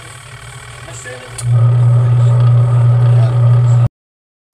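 Sharp washing machine motor running with its pulsator not turning, a steady low hum that swells in after about a second and holds close and even until it cuts off abruptly, with one short spoken word near the start.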